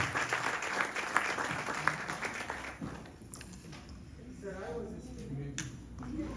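A crowd gives a round of applause to the new Dharamacharya at his inauguration in New York City; the clapping is steady and moderately distant, fades after about three seconds and gives way to someone talking.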